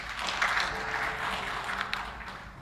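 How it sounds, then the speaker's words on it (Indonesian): A church congregation claps for God during a worship service, a steady wash of many hands applauding together for a couple of seconds, moderately loud and diffuse, with no clear speech. "Kasih tepuk tangan buat Tuhan."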